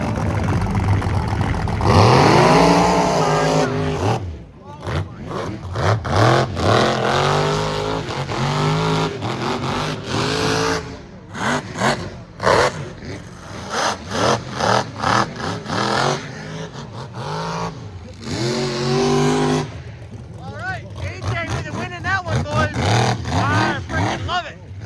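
Mud trucks revving hard at the Michigan Mud Jam, loud roaring engines surging and dropping in repeated bursts as they launch and race, close by, with people talking and shouting over the noise.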